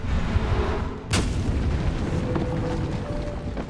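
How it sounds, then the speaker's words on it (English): Age of Wonders 4 fantasy strategy game: a Suppressive Barrage artillery attack with a sharp boom followed by rumbling explosions over dense ongoing battle noise, loud and continuous. "Let me try Suppressive Barrage."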